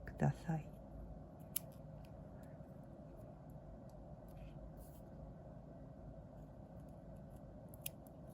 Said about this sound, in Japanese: 少しカーブするような感じで切るといいと思います